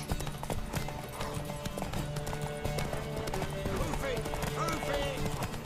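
Horse hooves clip-clop rhythmically in The Witcher 3, with a brief neigh among the steps, while voices talk over the sounds of the game.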